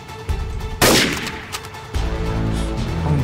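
A grenade explodes in Garry's Mod Trouble in Terrorist Town with one sudden loud burst, then a crackling rumble and ongoing game noise afterward.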